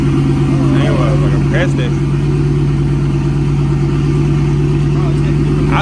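A Dodge Scat Pack's engine runs with a steady, loud low rumble throughout, and someone talks over it.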